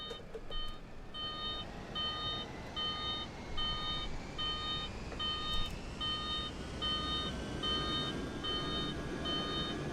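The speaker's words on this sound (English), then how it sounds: "Would help if it wasn't beeping at me." A cockpit warning in a Fenix airliner flight simulator game beeps over and over in a steady, evenly spaced pattern of short electronic tones, laid over a constant low engine rumble.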